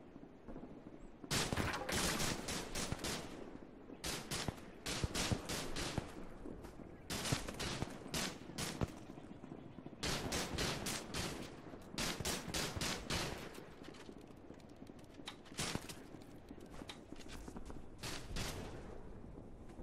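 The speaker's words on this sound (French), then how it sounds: "les tirs passent d'un écran à l'autre" Gunfire rattles in The Eternal Castle video game, coming as loud rapid bursts of shots separated by short gaps and repeating across the stretch against a low background.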